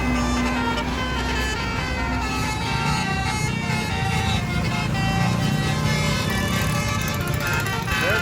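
An Indonesian bus telolet horn plays a song's melody loudly and continuously amid a roaring convoy of buses and traffic, with people talking and cheering over it.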